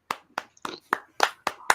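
Seven sharp, evenly spaced hand claps from one person, close and distinct with short silent gaps between them, during a talk-show style discussion.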